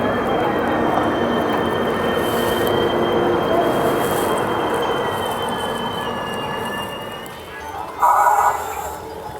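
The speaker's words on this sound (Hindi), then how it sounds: "यहाँ पे हमारी ट्रेन को ओवरटेक कर लिया है 12423 डिब्रूगढ़ न्यू दिल्ली राजधानी एक्सप्रेस ने" Dibrugarh–New Delhi Rajdhani Express overtaking on the adjacent track, heard from inside a moving train as a loud steady rumble of wheels and rails that fades toward the end, followed by a brief clunk.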